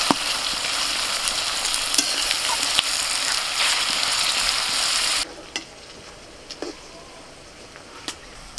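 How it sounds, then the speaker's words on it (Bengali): Onions sizzle and crackle steadily in hot oil in a kadai, frying into crisp birista for goat biryani, loud and continuous before stirring and sparse crackles take over. "তো তার জন্য এখন পেঁয়াজগুলো ভেজে নেওয়া হবে, বেরেস্তা তৈরি করে নেওয়া হবে।"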